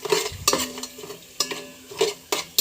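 Garam masala spices fry in oil and ghee inside a rice cooker, with a soft steady sizzle broken by several sharp scraping stirs of a spoon against the pot, close and moderately loud.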